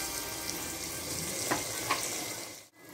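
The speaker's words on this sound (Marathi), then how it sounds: "आता टाकले आलं लसूण पेस्ट." Ginger garlic paste sizzles steadily in a pan for mutton pulao, a continuous hiss with a couple of faint clicks, cut off by a brief dip near the end.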